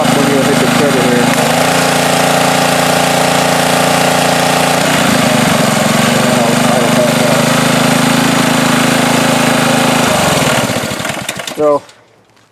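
A Ryobi pressure washer's small engine, just repaired after not starting, runs loudly at a steady idle with shifts in tone, then sputters and cuts out near the end, leaving quiet; someone speaks briefly over it.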